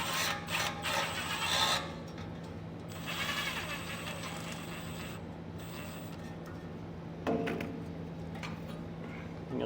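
A hand ratchet snugs up exhaust clamp nuts on a tailpipe while rear air bag suspension is fitted to a 2017 Chevrolet Silverado, heard as rapid clicking bursts with pauses, fairly quiet over a steady hum.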